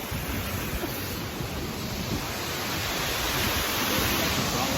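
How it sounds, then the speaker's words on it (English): Steady, broadband roar of rushing water from a waterfall on a hike, loud and continuous with no breaks. "We got waterfalls. We're chasing waterfalls."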